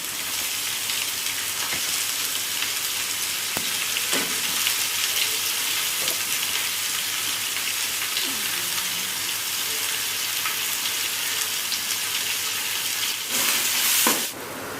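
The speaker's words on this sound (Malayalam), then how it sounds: "നന്നായിട്ട് ബ്രൗൺ കളർ ആവുന്ന വരെ വഴറ്റി കൊടുക്കണം" Onion sautéing with curry leaves and salt in a pan for a beef dish gives a steady close sizzle, with faint stirring scrapes and a brief louder burst near the end.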